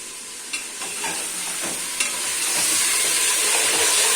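Roast and chonge stir-fried in a handi, a steady bright sizzle with several scrapes of a spoon against the pot, loud and close, with no voices.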